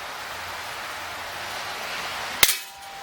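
A single sharp shot from an Umarex Smith & Wesson M&P R8 CO2 BB revolver cracks out near the end, loud and close, over steady outdoor background noise.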